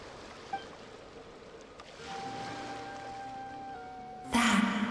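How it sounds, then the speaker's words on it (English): Ocean waves in Genshin Impact rise into a brief, loud surging wash near the end, over a quiet ambient bed with steady soft tones and no speech. "Go to where you can hear the sound of the waves."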